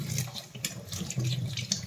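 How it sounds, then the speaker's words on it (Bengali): A kitchen tap runs in a steady, close splash while bay leaves are rinsed clean under it, with no voices. "ভালো করে তেজপাতাগুলো ধুয়ে নিই"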